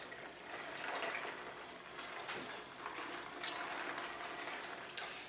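Hibiscus tea being poured into a pitcher, a soft steady trickle and splash of liquid heard faintly and close, with no talking.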